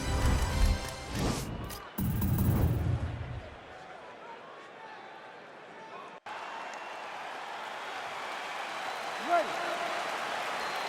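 An arena crowd roars and cheers at the start of a UFC welterweight bout in the video game EA Sports UFC 4, loud at first, then easing into a steady broad murmur with brief bursts.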